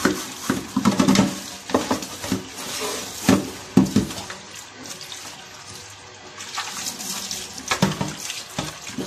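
Tap water runs and splashes unevenly as refrigerator parts are rinsed and handled with dish soap, with bursts of clatter and gurgling, close by.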